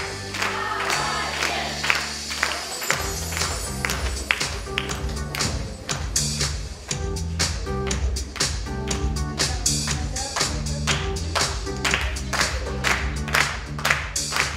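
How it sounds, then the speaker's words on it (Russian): Audience applause at a teachers' award ceremony, heard as steady clapping mixed with rhythmic, loud stage music with a strong beat that carries through the whole stretch. "Поддержим ее аплодисментами."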